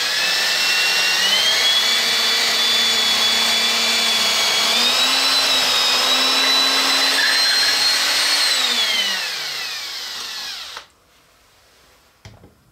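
A power drill plunges a bit through wood for a pocket hole joint, running at a steady high whine for several seconds, its pitch dipping slightly under load before spinning down and stopping.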